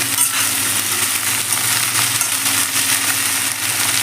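Green chilies sizzle and crackle steadily in a hot pan while being stirred, a loud, continuous hiss with faint scraping, cooked for a mattikayala pappu fry.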